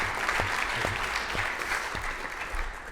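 An audience at an artificial intelligence conference in Île-de-France applauds to thank a departing speaker, a steady, fairly distant wash of many hands clapping with a few distinct claps poking through.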